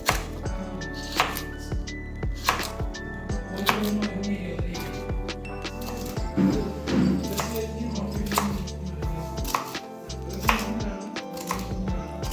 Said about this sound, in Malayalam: അതേപോലെ ഉരുളക്കിഴങ്ങ് കട്ട് ചെയ്യുന്ന പോലെ ചെറിയ ചെറിയ പീസാക്കി കട്ട് ചെയ്തെടുക്കാം